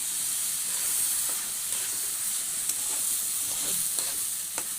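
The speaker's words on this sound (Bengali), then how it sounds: "এখন ওইটা দিয়ে একটু নাড়বো ভালো করে, মশলাটাও যেন ভাজা হয়ে যায়" Rice for pulao fries in a pan with ground spice mix while being stirred, producing a loud, continuous hissing sizzle up close with occasional soft scrapes and taps.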